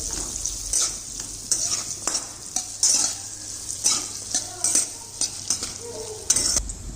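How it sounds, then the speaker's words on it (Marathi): Raw mango curry stirred and fried in oil, with repeated spatula scrapes and clinks against the pan over a continuous sizzle, close by and without speech. "असं हलवून घ्यायचं म्हणजे तेलामध्ये चांगली फ्राय करायची"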